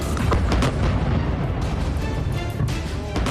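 An Israeli airstrike using 450 kg of explosives hits a Hezbollah tunnel, producing loud, continuous booming rumble with overlapping blasts, heavy and dense throughout.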